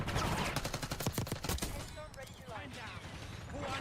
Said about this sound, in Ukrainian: Так, підлетів і стріляє.